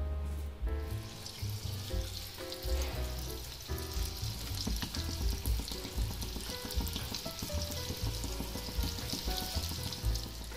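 Veg cheese balls deep-frying in hot oil, a dense, continuous bubbling sizzle that stays loud and steady throughout, with a few faint clinks in the background.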